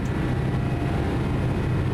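A Boeing 777-300ER accelerating in X-Plane 12 produces a steady, loud, dense roar of engines and rushing air, unbroken for two seconds with no voices.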